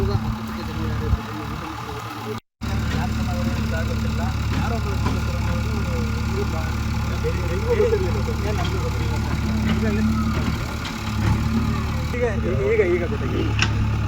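A tractor idles at a farm garden in Kaniyanahundi, HD Kote taluk, putting out a steady, low, even engine rumble throughout. Voices and outdoor bustle sit over it, and the sound drops out briefly for a moment.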